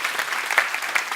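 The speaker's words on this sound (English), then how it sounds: "let's give Carl another round of applause." Audience applause at the close of a conference talk on AngularJS internals, steady dense clapping filling a short moment with no voices over it.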